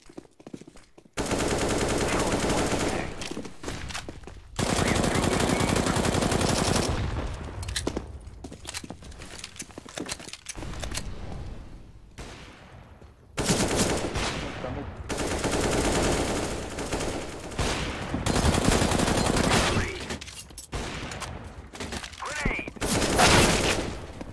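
Rapid automatic gunfire from CS:GO in loud sustained bursts, separated by brief quieter gaps with scattered shots and movement sounds.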